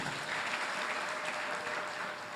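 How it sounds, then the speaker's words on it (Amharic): Dense, steady applause from a church congregation clapping together, a continuous wash of many hands without pause, loud and close, with almost no voices above it. "አጨብጭቡ ለእግዚአብሔር።"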